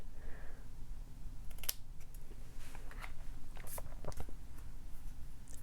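Paper scissors snip the end of a quilling strip for letter work, a few quick, close, crisp cuts with faint handling noise in a quiet room.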